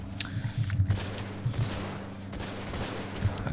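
Bursts of machine gun fire crackle in the Men of War Assault Squad 2 multiplayer game, a fairly faint rattle of short volleys and scattered shots over low battle background noise.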